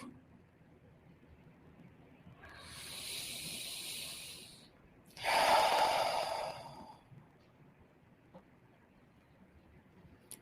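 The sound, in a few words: gentle breathing during meditation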